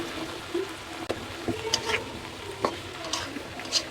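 Sliced pointed gourd fries in a pan with a steady soft sizzle, broken by scattered clicks and scrapes from stirring, fairly close and with no talking.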